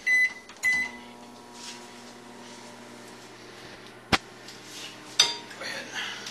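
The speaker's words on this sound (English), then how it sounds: "we need to melt the wax so it's back into the microwave for about another minute" A microwave oven hums steadily for several seconds while heating wax, with a couple of loud beeps at the start and occasional sharp clicks and clinks of kitchen handling over the drone.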